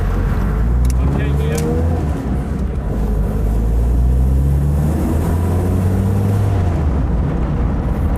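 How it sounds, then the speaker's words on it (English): A 1982 Ford Escort Mk3 with a 1.3-litre CVH engine runs steadily on the road, a low continuous drone with little change, sounding close and fairly loud from inside the car. "the engine sounds really nice actually"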